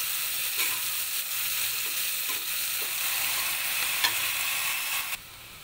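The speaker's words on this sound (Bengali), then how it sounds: "কড়াইয়ের মধ্যে পেঁয়াজ কুচিগুলো দিয়ে দিলাম, হালকা লাল পর্যন্ত আমরা ভাজতে থাকবো" Chopped onions fry in oil in a wok for a prawn malai curry, a loud, dense and steady sizzle close up with occasional soft stirring scrapes, ending abruptly in quieter background, with no talk.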